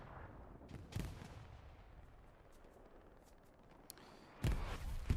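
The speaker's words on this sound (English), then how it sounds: "Gang gets cleaned up by a grenade." A grenade blasts in Hell Let Loose amid a war-game firefight, with a dull heavy boom early on, a stretch of low battlefield rumble, then another loud close explosion near the end.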